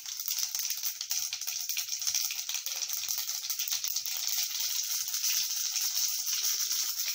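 Mustard seeds crackle in hot oil with browning chana dal, giving a dense, continuous hiss packed with rapid, rattling pops that stay close and even throughout.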